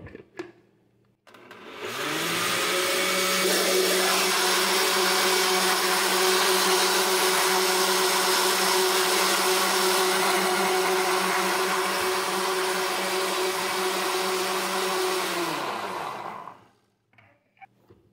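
An electric blender beating batter for oven-baked rabanada starts up after a short pause and runs at a loud, steady whine for about fourteen seconds before winding down, close and alone.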